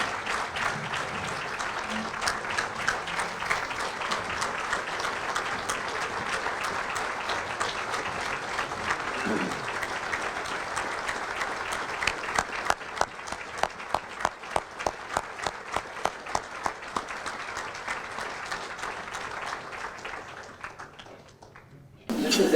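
An audience at a sports hall of fame induction ceremony applauds steadily for about twenty seconds. Dense clapping breaks into a few louder individual claps before it fades out, and a voice briefly returns at the end.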